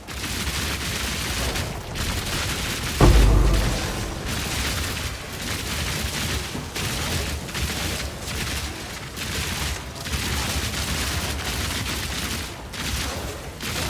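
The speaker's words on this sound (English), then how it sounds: "Okay, this is a crossbow." An automatic crossbow in Path of Exile 2 fires continuously, a dense rapid stream of shots with a heavier boom early on, steady and loud across the whole stretch.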